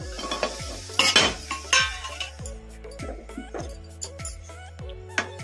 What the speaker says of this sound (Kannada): ಈಗ ಈ ಥರ ಕಲಿಸ್ಕೊಂತ ಫ್ರೈ ಮಾಡ್ಕೊಂಬಿಡೋಣ ಇವನ್ನ ಮೀಡಿಯಮ್ ಫ್ಲೇಮಲ್ಲಿ ಇಟ್ಕೊಂಡು ಫ್ರೈ ಮಾಡ್ಕೊಂಬಿಡೋಣ